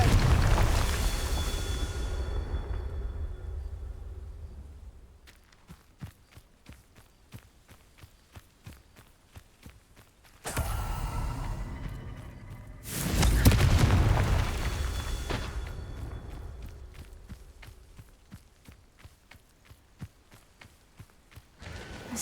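A Confringo fire-blast spell cast in the video game Hogwarts Legacy, heard as deep booming blasts that swell and fade, interspersed with rapid footsteps during combat.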